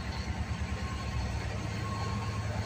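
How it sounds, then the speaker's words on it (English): A Rochester and Southern freight train rumbles past, a steady low roar with rhythmic wheel beats and a faint tonal hum, loud and continuous throughout with no voices. "I thought I saw a through train with different locomotives going through"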